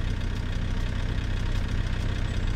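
A car engine idling in the video game Car Parking, a steady, dense rumble that runs evenly throughout with no break and no voices.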